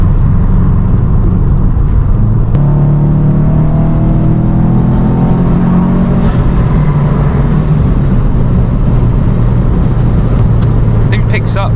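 A 2007 Subaru WRX STI making about 300 wheel horsepower accelerates from inside the cabin, its engine tone climbing through the revs before a gear change, loud and close.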